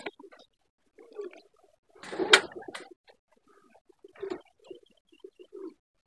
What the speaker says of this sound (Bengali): এই কবুতরটা কিন্তু গোল্লা কবুতর